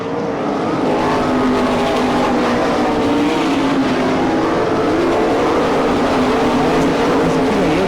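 Sprint race cars on a dirt track in Franklin, Pennsylvania, at an All Stars versus NCRA shootout, roar in a loud, continuous, wavering engine drone as several cars howl past close by.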